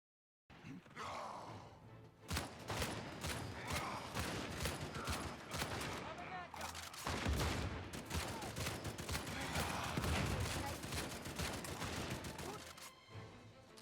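Rapid gunfire bursts in the video game Uncharted 4 survival co-op mode, dense repeated shots with brief pauses, loud and near, mixed with grunts and breathy vocal sounds.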